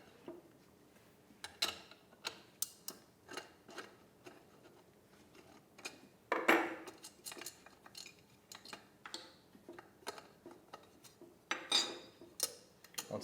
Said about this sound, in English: We'll use a 10mm socket to remove the cover.